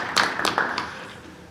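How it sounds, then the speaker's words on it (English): A few scattered handclaps from an audience at a school board meeting, short and fading quickly into room quiet. "Let's give a nice round of applause for the Future City."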